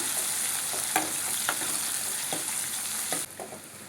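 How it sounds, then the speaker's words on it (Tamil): Onion, garlic and curry leaves sauté in a pan with a steady close sizzle and occasional stirring scrapes, no voices, the hiss dropping slightly near the end. "இந்த வெங்காயத்து கூட இந்த பூண்டு கருவேப்பிலை எல்லாம் சேர்த்து நல்லா வதக்கிக்கணும்"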